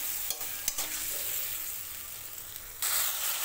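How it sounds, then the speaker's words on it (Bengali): Spice paste sizzles in a pan with melted tomato for a broccoli dish, a bright continuous hiss broken by a few quick stirring scrapes and rising louder near the end. "দিয়ে দিচ্ছি পেস্ট বানিয়ে রাখা মশলা। মশলা দিয়ে কিছু সময় একটু নাড়িয়ে চাড়িয়ে নেব।"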